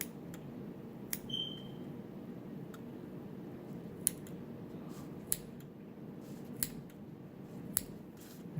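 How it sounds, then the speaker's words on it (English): Scissors snipping fat away from an eye during a dissection, with sparse sharp clicks spaced about a second apart over a low steady room hum, close and quiet, with no talking. "I am going to try to cut away for all the fat here."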